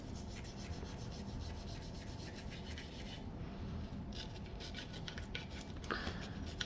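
Bristle brush scrubbing Glock 19 Gen 5 pistol parts, a steady rough rubbing and scratching that continues close and fairly quiet throughout, with no talking.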